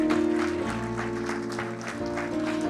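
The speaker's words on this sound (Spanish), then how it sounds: "¿Cuántos damos un fuerte aplauso al Señor?" A church congregation claps together for the Lord during a Spanish-language sermon, a dense, even applause under a steady tonal hum, with no one speaking.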